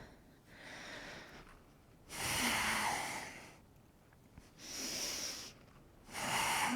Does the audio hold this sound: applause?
no